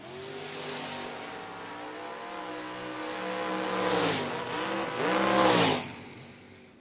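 A 1983 Camaro drag racing car at a footbrake event, engines revving loudly and rising in pitch as cars launch and accelerate, with two strong surges before fading.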